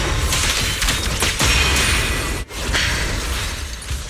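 An explosion attack in Zenless Zone Zero roars as a loud, dense burst of crashing blasts and debris. The noise runs almost continuously, with a brief dip midway, and no voice is heard.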